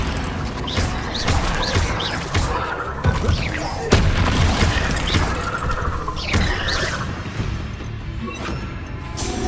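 Bombarda and Confringo explosion spells in the video game Hogwarts Legacy, a dense, loud mix of booms, crashes and impacts with swirling magical effects and brief voices.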